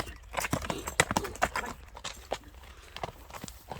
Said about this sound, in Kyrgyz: Бастырчы мында басыгыны байкаңыздар мына атты